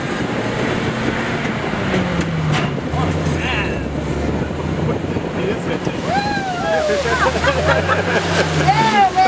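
An amphibious duck boat surges into artificial Lake Delton at Wisconsin Dells, raising a loud, sustained rush of water and spray beneath wind buffeting and a rumbling engine, with people talking and cheering throughout.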